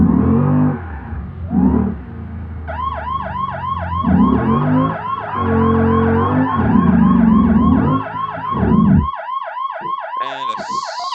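A police interceptor car's siren in a driving video game wails in loud, repeating up-and-down sweeps over a steady engine rumble; brief talk and engine noise come first, before the siren starts.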